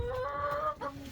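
A backyard hen gives a short, close run of soft, throaty clucks, heard alone with no talking.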